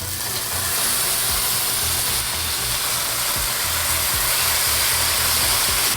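Fish laid in a pan over a hot outdoor grill sizzle with a dense, steady, loud hiss close by, over a low rumbling undertone, with no voices.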